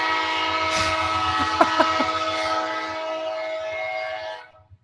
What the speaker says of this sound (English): the guy's like sitting out there honking his horn loudly.